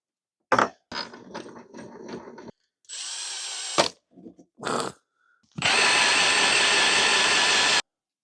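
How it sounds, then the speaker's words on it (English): Hand file working a bolt hex on a 40-year-old motorcycle part, close rasping strokes in short bursts with pauses, ending in one long continuous grinding stroke. "So I need to get the files out and file this down."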